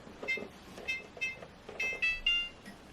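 Kitchen timer set for an hour while dinner rolls rise, giving a series of short, high electronic beeps in uneven pairs and groups, moderately loud and close against a quiet room.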